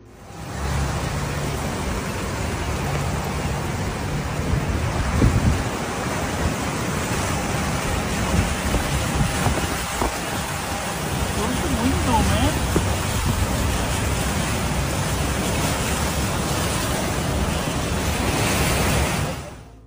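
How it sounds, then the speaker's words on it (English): Flood water rushes steadily around a McDonald's in Palm Springs, California, a loud continuous wash of noise with wind buffeting the microphone and no clear breaks. "This video was captured in Palm Springs, California, and shows how the flood affected McDonald's."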